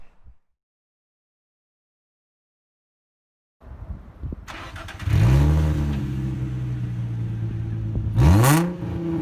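A Nissan 350Z with a straight-pipe exhaust sits silent, then cranks and fires up loud and close, settling into a deep rumbling idle before a sharp rev blip near the end.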